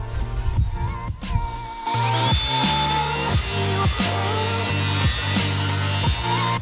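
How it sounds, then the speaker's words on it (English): A grinder works a steel knife blade, starting with a few handling knocks, then a steady motor hum under a bright grinding hiss broken by regular rhythmic dips as the blade is passed across, close and fairly loud. "I need to grind this center part here down a little bit more."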